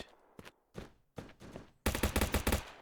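Gunfire in Streamer Life Simulator 2: a few scattered single shots and short bursts, then a loud rapid automatic volley near the end, with no talking.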